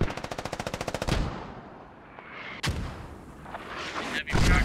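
Mortar and gun fire in a video game battle: a rapid burst of evenly spaced automatic shots, then heavy booming blasts and rumbling, loud and close.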